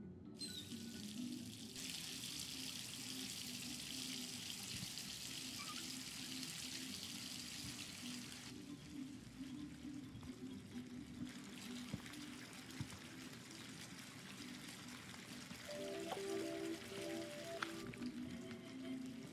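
Hot water runs from a tap into a bathtub in the Life is Strange 2 video game, a steady rushing pour that changes tone partway as the tub fills, with no talk.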